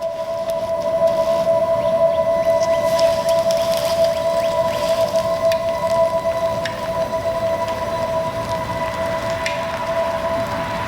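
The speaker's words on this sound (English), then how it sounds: "Here's the space-age sound of the Chevy Bolt, coming from a speaker located under the front bumper." A 2023 Chevy Bolt EUV's low-speed pedestrian alert plays from a speaker under the front bumper: a steady futuristic two-tone hum held continuously, with faint outdoor noise and rustle beneath it.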